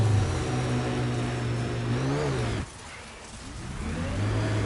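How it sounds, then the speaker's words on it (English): Nomad rover boosters in Mass Effect Andromeda: a steady mid-pitched engine whir that climbs in pitch, cuts out abruptly, then swells back in after a brief lull. "If you need more juice, the boosters can accelerate you out of trouble."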